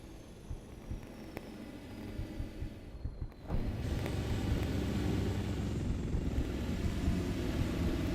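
A Blackfish aircraft from the military game Arma 3 flies overhead as a steady engine drone and rumble that swells suddenly louder partway through and then holds at that level.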